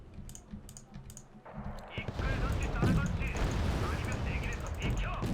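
130 mm artillery fire in the video game Wargame: Red Dragon, a dense rumble of heavy booms and crackling explosions that swells and stays loud after a quieter opening of sharp clicks.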